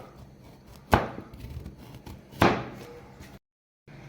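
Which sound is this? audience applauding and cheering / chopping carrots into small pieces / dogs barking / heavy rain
chopping carrots into small pieces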